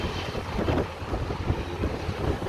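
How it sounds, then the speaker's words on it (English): Strong wind blowing outdoors beside tall communication towers, a continuous loud rushing buffet across the microphone with no voices. "It's so windy out here,"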